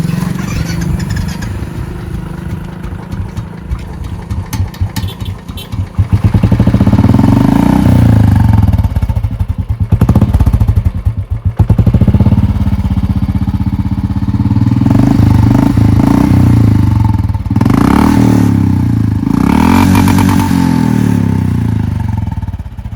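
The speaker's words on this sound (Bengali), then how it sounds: "এই বাইকটার সাউন্ডটা আপনাদেরকে শুনিয়ে দিই আছে বাইকটা নিউট্রালে আছে" A Royal Enfield Classic 350 motorcycle engine runs steadily at idle in neutral, a continuous low throbbing rumble close by, with some mechanical clatter and no speech.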